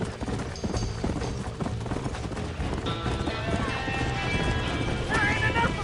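Horses galloping with steady clip-clop hoofbeats and occasional whinnies in Red Dead, near a burning barn, loud and continuous under tense music and shouting voices.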